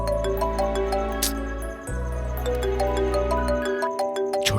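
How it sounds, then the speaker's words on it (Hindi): A melodic phone ringtone plays loudly with repeating chime-like tones, layered over a low sustained hum. "सॉरी प्रताप, तुम्हें इस वक्त फोन करके डिस्टर्ब किया।"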